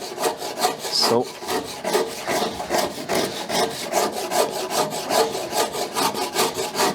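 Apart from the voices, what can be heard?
Shinto rasp filing oak wood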